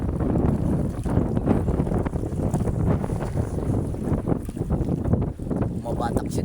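Strong wind buffets a small fishing boat out on the water, a constant, close, gusting roar across the mic.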